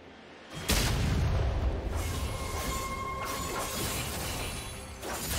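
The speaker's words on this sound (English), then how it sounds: "Red team's turret has been destroyed." A League of Legends turret is destroyed in a sudden loud shattering crash, followed by a sustained rumbling, crumbling roar with a faint ringing tone that slowly fades over several seconds.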